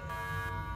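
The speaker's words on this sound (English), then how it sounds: "What's that sound? That's the alarm." An airport alarm or buzzer blares in a steady, continuous electronic tone for under a second, loud and alone.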